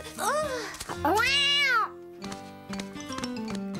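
An animated cartoon cat gives two drawn-out, rising-and-falling meows, the second longer and louder. Softer thumps and tonal background sounds follow.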